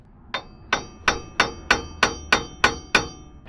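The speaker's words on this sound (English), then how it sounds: "let's hammer that" Hammer striking an extension to drive out a worn wheel hub on a 2005–2021 Nissan Frontier, nine sharp metallic blows at a steady rhythm, loud and close with no talking.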